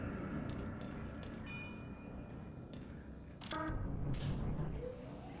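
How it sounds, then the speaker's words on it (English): A modeled train in the Black Mesa game rolls along with a steady rumbling clatter, a thin metallic whine and a short squealing screech partway through, fairly quiet overall. "there's this very handsome train here"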